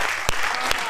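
Audience applause at a Hindi comedy poetry gathering, a brief steady wash of crowd clapping with a couple of sharper claps standing out.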